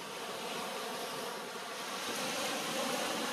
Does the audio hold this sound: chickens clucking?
no